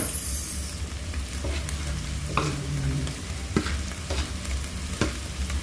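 Garlic and onion sautéing in a pan for papaitan, a steady soft sizzle with intermittent stirring scrapes and utensil knocks, close and continuous with no talking.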